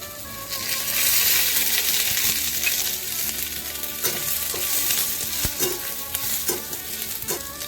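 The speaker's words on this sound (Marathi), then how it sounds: "आपण कांदा भाजून घेऊया। लसूण आणि आलं पण घालूया त्याच्यात, ते पण भाजून घेते।" Onion, garlic and ginger fry in oil in a pan, giving a close, steady sizzle punctuated by clicks and scrapes of a spoon stirring against the metal, with no voices.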